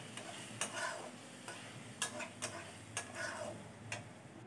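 Ground coriander, cumin and turmeric being sautéed in a pan for a Bengali vola fish curry, with a low steady sizzle broken by several sharp scraping taps of a spoon stirring against the pan, no talking.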